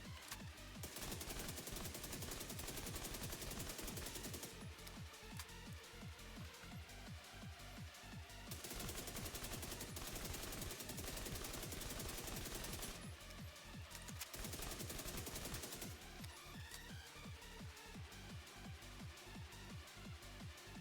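Sustained automatic gunfire in the shooter game The Division 2, with long rapid bursts broken by short pauses, loud and continuous throughout with no talking.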